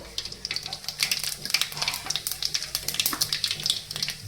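Cumin seeds spluttering in hot oil in a kadai, a close, busy sizzle full of sharp irregular pops and crackles that keeps up without a break.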